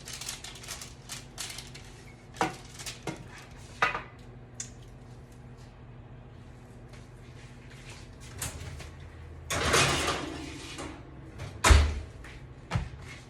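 Oven door and baking dish handled in a home kitchen while a tofu and brown rice dish goes back into the oven: scattered clunks and knocks, a louder rattling scrape near the end, then a final thud, no talk.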